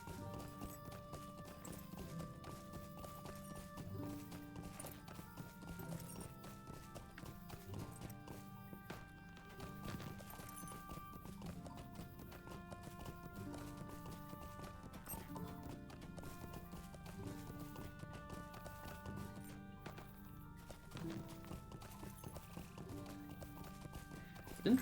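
Horses in a fenced paddock in the video game Lord of the Rings Online, in Bree-Land, give off steady clip-clop hoofbeats and occasional whinnies over game music throughout.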